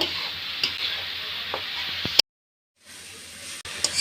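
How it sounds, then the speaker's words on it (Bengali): Kolai greens seasoned with salt are stirred and tossed in a pan, giving a steady scraping sizzle that cuts out abruptly for a moment and then resumes, close and moderately loud. "শাকে পরিমাণ মতন লবণ এখন আমি নাড়াচাড়া করে নেব"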